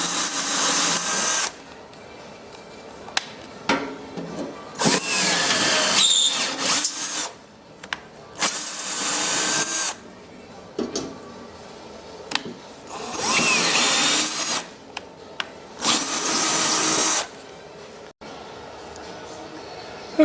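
A cordless drill tapping threads into bolt holes in metal parts for a rocket build, heard as several separate bursts of whirring drill motor, loud and close, with short pauses between runs.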